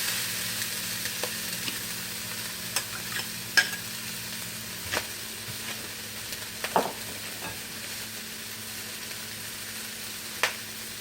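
Cooked rice with peas and carrots being stir-fried for Yangchow fried rice, a steady close sizzle broken by sharp scattered clicks and scrapes of a utensil against the pan, with no voices.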